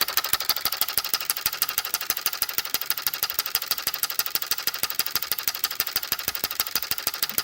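A small electric beam engine runs on an increasing supply voltage, making a rapid, evenly spaced mechanical ticking that stays close and steady throughout, with no voices.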